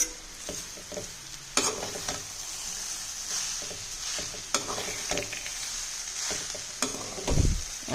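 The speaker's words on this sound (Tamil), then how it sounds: "இப்போ இதோட சாதத்தை நம்ம கிளறிடலாம், போட்டுடலாம்." A spoon stirs gooseberry (nellikai) rice in a pan. Close, irregular scraping and clinking strokes sound over a soft background sizzle, with a sharp scrape near the end.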